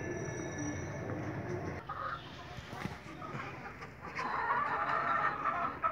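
White broiler chickens about 36 days old cluck and chirp continuously in a rearing shed, a busy flock murmur close by with a few louder calls.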